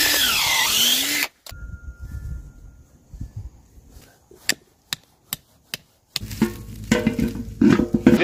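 Power drill boring a tap hole into a healthy maple tree to collect sap, a loud grinding whine at the start that cuts off abruptly, then scattered clicks and knocks before a busier stretch of outdoor activity returns.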